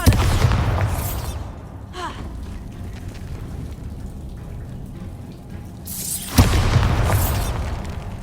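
Explosive Confringo and Bombarda spells in Hogwarts Legacy on PS4 Slim, heard as two deep booming blasts several seconds apart, each trailing off in a rumbling, crackling tail.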